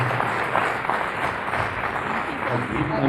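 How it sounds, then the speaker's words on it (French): Applause from an audience at an accessibility award ceremony held by the Council of Europe. It is a steady, dense clapping wash that runs through the moment under a bit of murmur. "On peut les applaudir, je pense."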